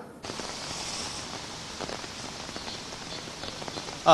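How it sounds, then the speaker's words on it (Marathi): Heavy monsoon rain pours on a Mumbai street in the CST area, a dense, steady downpour hiss with scattered drops and a louder burst at the very end. "सीएसटी परिसरामध्ये सुद्धा मुसळधार पाऊस सुरू आहे"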